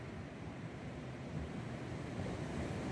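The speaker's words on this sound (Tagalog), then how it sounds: "Naririnig nyo ba kailan yung dagundong sa dagat? Oh, medyo malalaki yung mga alon." Large sea waves roar steadily onto a beach at a seaside resort, a loud continuous broadband wash with wind noise and no pause for the whole stretch.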